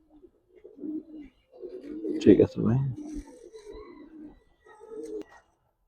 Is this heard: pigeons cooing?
yes